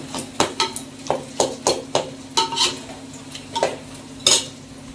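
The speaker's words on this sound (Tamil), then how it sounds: "இது வந்து சிக்கனுக்கு வதங்கிட்டு இருக்கு" A metal spoon scrapes and clanks against a cooking pot in irregular strokes while chicken and masala sizzle softly underneath.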